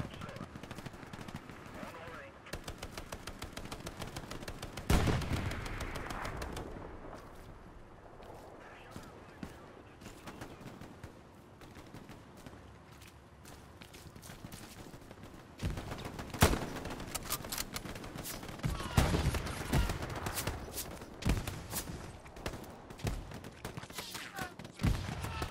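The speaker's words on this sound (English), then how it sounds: "Machine gunner's got me pinned down, making it difficult for me to shoot at anything." Sustained machine gun fire in the World War II shooter Hell Let Loose, dense rattling bursts overlapping other gunfire and battle noise, with heavier volleys around the middle and later stretches.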